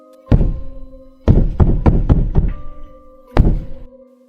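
Heavy wooden knocks like a door being pounded in a horror story: a single thud, then a rapid run of about six insistent knocks, then one more loud blow, each close and booming against silence.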